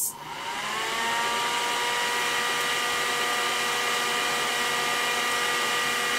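A new electric fan spins up from start and settles into a steady loud whirring rush of air with a humming motor tone, close by and continuous.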